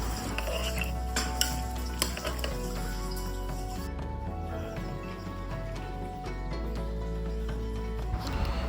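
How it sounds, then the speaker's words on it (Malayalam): Spoon scraping and stirring vegetables and spices for Kerala sambar in a pressure cooker, with repeated clinks and knocks, over a low background hum and faint sizzle. "വെജിറ്റബിൾസും മസാലാസും എല്ലാം കൂടെ നല്ലപോലെ മിക്സാക്കി എടുക്കേണ്ടതാണ്"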